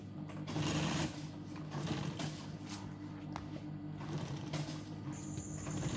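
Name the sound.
sewing machine stitching rickshaw hood design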